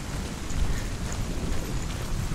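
Steady rain falling in the game Hellblade: Senua's Sacrifice, a dense, even wash of patter with a low rumbling undertone, continuous and fairly close with no voices.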